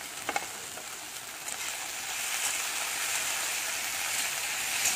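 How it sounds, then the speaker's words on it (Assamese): Finely chopped leafy greens with tomatoes sizzle steadily in a hot pan, a soft continuous hiss that swells slightly partway through, with no voices. "এইখিনি মিহিকৈ কাটি লৈ মই এই বিলাহীখিনিৰ লগতে শাকখিনিও দি ভালদৰে ভাজি ল'ম"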